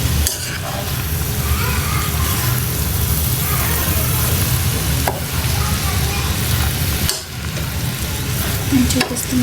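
A spoon works through palak, tomato and potato curry in a pan, scraping and stirring over a constant sizzle, with a couple of sharper knocks against the pan, close and loud.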